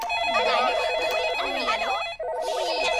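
Cartoon-style telephone ringing in a busy room, a steady electronic trill under a chatter of overlapping, warbling voices, continuous for a few seconds with a brief dropout near the end.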